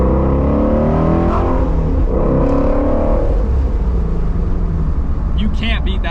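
Exhaust of a 2017 Ford Mustang GT350 revving below 5,000 RPM, loud throaty engine tone rising and falling in pitch, with someone talking over it.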